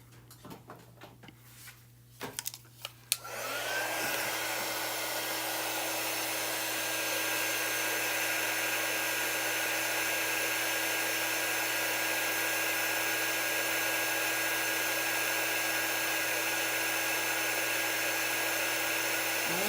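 A hair dryer blows air onto the corner of a fabric pillow with a Nordic pattern, a loud, steady whirring rush that starts after a few faint clicks and runs on without a break.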